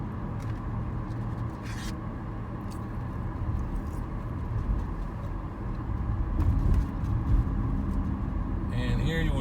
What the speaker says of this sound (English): Goofy bus is passing me on the left and a Minnie Mouse bus